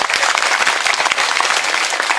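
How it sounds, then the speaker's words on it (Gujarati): Loud, dense applause from a rally audience at a village campaign meeting, sustained clapping from many hands throughout with no voices over it. "આવા માણસ માટે એકવાર જોરદાર તાળી પાડો."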